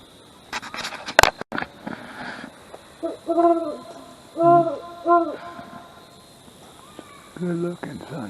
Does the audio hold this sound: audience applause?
no